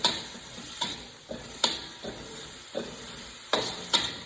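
Serrano chili stirred into onions frying in a pan, a steady close sizzle broken by a series of sharp scraping stirs roughly every half second to second.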